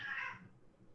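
A person lets out a short, high cat-like scream, a single quiet squeal that fades quickly into near silence, the voice imitating a cat.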